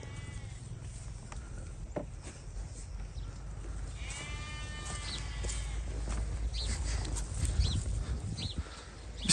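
Sheep bleat in a livestock pen at a market, with several overlapping calls from the flock at moderate distance over a steady background of farm noise.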